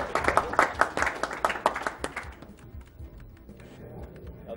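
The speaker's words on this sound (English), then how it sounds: "give him a clap" A short burst of clapping from a small audience at a speedrunning event, brisk and fairly close, fading out after about two seconds into quiet background.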